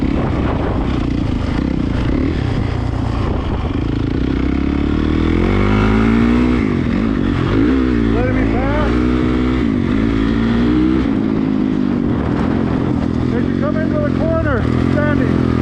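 Dirt bikes riding a practice track, engines droning loud and steady throughout with rising and falling revs as riders work the throttle, while voices talk over the motor noise.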